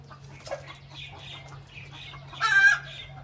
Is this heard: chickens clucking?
yes